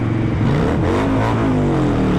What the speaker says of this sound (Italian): Volevo che sgasassi e allora ho sgasato.